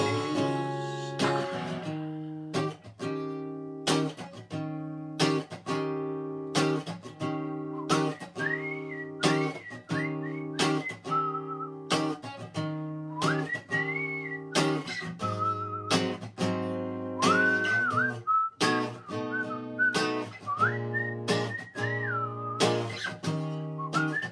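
A person whistles a melody up close, with a string of short, clear notes and a few sliding pitches over a steady rhythm.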